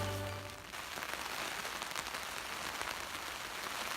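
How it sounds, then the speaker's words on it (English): Steady rain patters on a tent nearby, a dense crackling hiss that continues evenly after a brief low hum fades at the start. "It has started raining"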